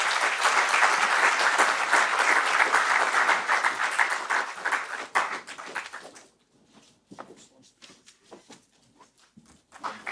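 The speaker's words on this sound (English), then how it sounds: "A huge round of applause, please." An auditorium audience at a conference session gives a loud, dense round of applause as speakers are honoured on stage, holding for about six seconds before thinning out into a few scattered, fading claps.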